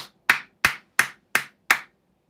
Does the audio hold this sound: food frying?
no